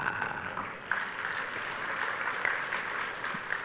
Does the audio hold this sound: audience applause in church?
yes